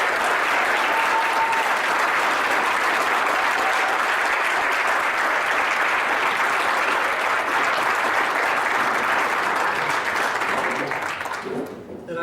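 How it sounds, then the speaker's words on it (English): A large audience at a sports hall of fame ceremony gives sustained, even applause for national champions, a broad roar of clapping lasting the whole stretch before tapering off at the end. "Let's give them all a huge round of applause."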